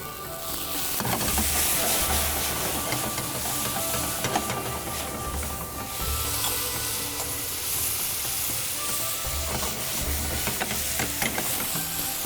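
Masala with added broth sizzles and fries steadily in a pan for dum keema, a dense, continuous hiss with occasional stirring scrapes and no talk.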